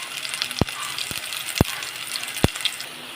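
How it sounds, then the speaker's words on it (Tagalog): Garlic and onion sautéing in hot oil in a pan, a steady crackling sizzle broken by a few sharp metallic taps of a utensil, close by with no talk. "Gisa na po tayo. Mag-umpisa po tayo sa bawang. Gisa po natin."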